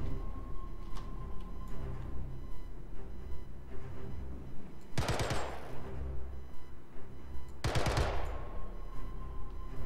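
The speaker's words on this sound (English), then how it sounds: "We are starting with the P4 AR assault rifle." Two short, loud bursts of P4 AR assault rifle automatic fire ring out in a video game, separated by a pause, over a steady low background hum.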